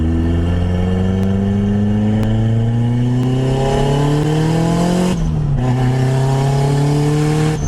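A Nissan 240SX with a turbocharged KA24DE engine accelerates loudly from inside the cabin, the engine note climbing steadily through the revs before a brief lift-off dip and renewed pull, with faint pops.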